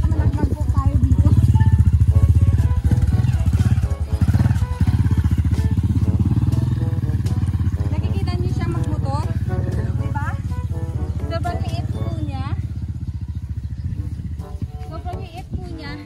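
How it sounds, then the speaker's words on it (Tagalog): A tall motorcycle runs near the back of a house in an open field, a steady engine rumble throughout with clattering and shifting revs, while people talk over it. "Ang sobrang taas ko na motor, baka nalaglag po tayo dito."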